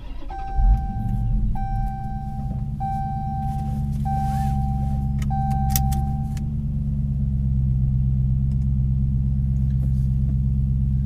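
A 2019 Dodge Challenger R/T Scat Pack idles with a deep, steady rumble while several short electronic chime tones repeat in the first half, then the engine note holds on.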